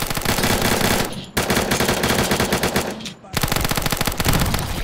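Rapid automatic gunfire from a first-person shooter on the Peak 53 Salt Mine map, loud sustained bursts of rattling shots broken by two short pauses, close and dominant with no voices over it.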